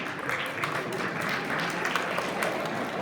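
Applause from a school audience at a National Mathematics Day celebration, steady continuous clapping with no clear breaks, moderately distant and filling the room.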